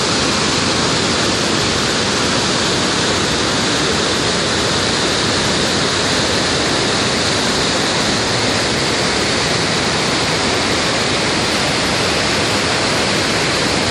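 The Kali Gandaki river running high in flood, a loud, dense, unbroken roar of rushing water, steady and close with no other sounds.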